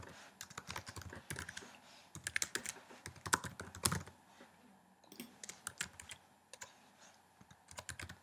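Keystrokes on a computer keyboard as an email address is typed in, heard as quick irregular bursts of clicks with short pauses, close and fairly quiet.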